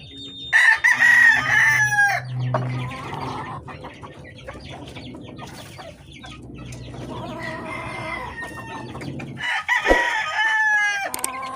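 Young Dome Sweater gamefowl around a month old clucking and crowing close by, with several loud crows rising over a continuous busy background of clucking and chick calls; no speech.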